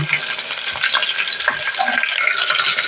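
Green chillies, garlic and curry leaves fry in hot oil, giving a steady close sizzle with light stirring and scraping across the pan, no talk over it.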